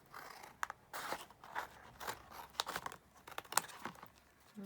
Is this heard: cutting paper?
yes